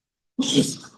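During a talk to a society at a hotel, a single sharp sneeze erupts after a moment of silence, close and fairly loud, trailing off quickly.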